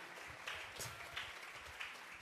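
Church congregation applauding together, a faint, steady wash of hand claps swelling in a few soft waves.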